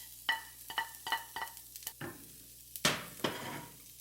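Chopped ginger stir-fried in oil in a pan, with a soft sizzle under repeated scraping and clinking strokes of a spatula, close and fairly quiet.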